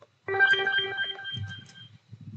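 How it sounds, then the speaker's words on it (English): A short electronic goal-alert chime from the Football 24 app plays from a phone, a bright melodic jingle lasting about a second that fades into low background murmur. "So that's the sound of Football 24."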